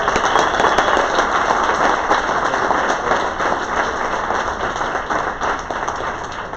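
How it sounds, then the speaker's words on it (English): Audience applause at a community town hall in a senior center, steady dense clapping that holds for several seconds and fades slightly at the end. "Can we give one more round of applause for Dia?"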